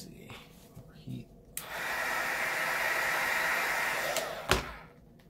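A heat gun blows hot air onto VViViD 3D carbon fiber vinyl wrap on a Scion tC steering wheel, a steady rushing hiss lasting about three seconds after quieter handling noises.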